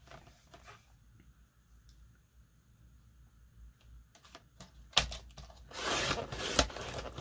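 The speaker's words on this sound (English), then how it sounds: "add some rub ons." Rub-on transfers being burnished onto a collage board: faint scattered scratches and taps, then a louder, steady rasping rub near the end, close up with no talking.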